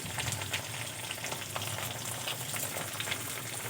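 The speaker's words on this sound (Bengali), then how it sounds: "এখন আমি কেটে রাখা টমেটোগুলো দিয়ে দেবো আর দিয়ে দেব কাঁচা লঙ্কা কুচি" Chopped tomatoes and green chili frying in a pan of fried onions, giving a steady close sizzle with light stirring scrapes throughout, with no voices.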